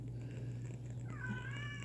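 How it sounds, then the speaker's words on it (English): A kitten meows once, a high, drawn-out cry rising over a steady low hum, close by and fairly quiet, with no one talking. "it's a sweet kitten"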